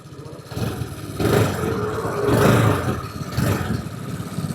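The engine of an Ariic Touch 250 motorcycle runs close by, a steady mid-pitched hum that swells in three gentle revs.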